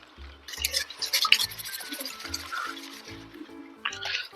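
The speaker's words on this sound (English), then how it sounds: "Gently dip in this washed water to remove the old substrate." Plant roots being dipped and swished in a container of wash water to rinse off old substrate, giving soft splashes, drips and trickles in bursts with a brief louder slosh near the end.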